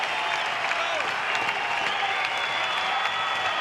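A baseball crowd at a Florida State versus Oregon State game cheers and claps steadily, a dense, loud roar of many voices and hands that holds the whole time without dropping off.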